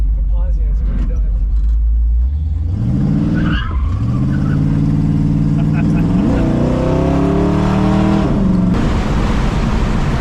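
A 1965 Ford Mustang with a 347 stroker small-block Ford V8 runs loud and close, its revs swelling and dropping in several sweeps from a rough rumble, while voices talk over the engine.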